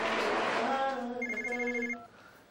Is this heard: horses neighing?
no